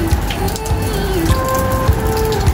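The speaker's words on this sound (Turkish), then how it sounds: "Yağmurda geziyorsun." Rain patters outdoors in a steady, moderately loud wash, with faint tonal whines drifting over the top and no speech.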